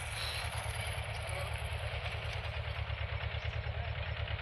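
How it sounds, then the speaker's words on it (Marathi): A small Mahindra Jivo tractor engine with a sowing implement chugs with a steady, rapid low throb, holding fairly even in loudness, with faint background hiss; no distinct speech. "तुम्ही पाहू शकता ट्रॅक्टर येत आहे"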